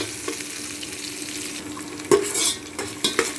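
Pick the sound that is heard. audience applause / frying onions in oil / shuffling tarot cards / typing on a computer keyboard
frying onions in oil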